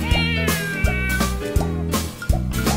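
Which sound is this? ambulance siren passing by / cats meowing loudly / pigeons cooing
cats meowing loudly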